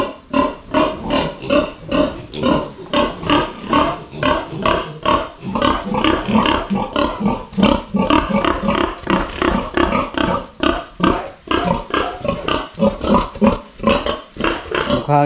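Sows on a farm grunt and squeal loudly and close by, in a continuous run of rhythmic calls with no break.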